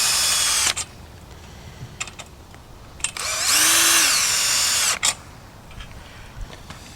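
A power drill tightens trampoline enclosure fittings in several short whirring bursts, with one longer, louder run near the middle as the motor revs up and winds down, close by.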